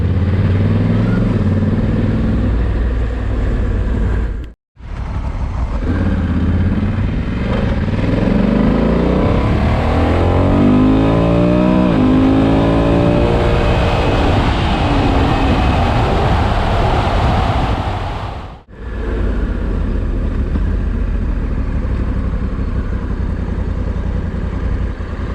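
A Honda Africa Twin 1100 DCT motorcycle rides along small country roads, its engine droning steadily and rising and falling in pitch under heavy wind rush, with two brief dropouts along the way.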